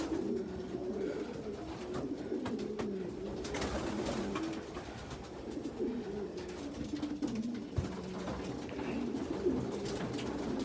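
Young pigeons coo steadily throughout, a low, continuous burble of several birds close by with faint rustling and no talking.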